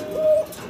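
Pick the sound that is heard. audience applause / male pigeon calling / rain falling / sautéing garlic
male pigeon calling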